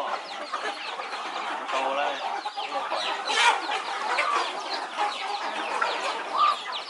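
Free-range fighting chickens in an open yard cluck and chatter continuously, many birds overlapping at moderate distance, with occasional sharper calls rising above the flock.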